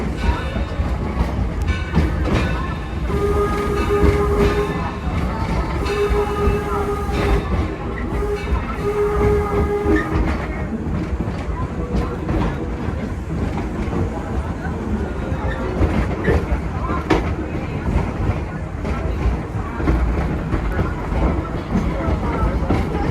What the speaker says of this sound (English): The locomotive pulling us today is our 1873 Torch Lake.